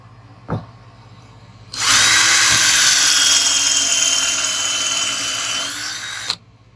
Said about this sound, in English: this Miles Craft attachment that basically creates a drill press environment, but for a freestanding drill